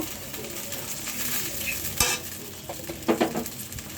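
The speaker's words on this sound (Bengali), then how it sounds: "এখন মশলাটা কষাই নিব।" Ginger, garlic and cumin paste sautés with fried onion in hot oil for a fish biryani, a steady sizzle broken by sharp scrapes and clinks of a spoon stirring against the pot.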